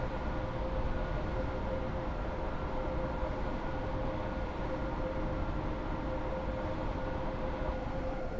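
A train in the Roblox game SCR rumbles steadily at a station, a continuous low droning hum with a faint steady tone on top, no talk, even in level throughout.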